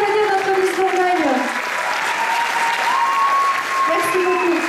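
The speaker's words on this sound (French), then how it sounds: "On peut l'applaudir notre Miss Bourgogne." An audience at the Miss Côte d'Or 2024 pageant in Châtillon-sur-Seine applauds Miss Bourgogne, dense sustained clapping from a large crowd with a presenter's voice and background music running over it.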